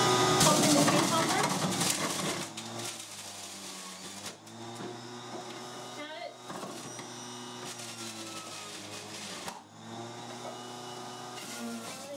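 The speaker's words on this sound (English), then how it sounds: "So I'm going to start juicing." A juicer on setting 1 grinds cucumber with a steady motor whine and hum, heavier and rougher at first, then settling into a continuous drone broken by a few brief dips as pieces feed through.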